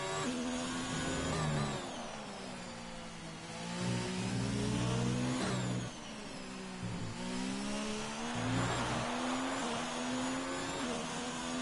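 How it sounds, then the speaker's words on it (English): An F1 car on a flying lap around the Russian Grand Prix track in a racing game, its high-pitched engine screaming steadily, rising through each gear then dropping on upshifts and braking, in several repeated sweeps with no talk. "As we ride on board with Speed_Senna as he starts his flying lap around the Russian track."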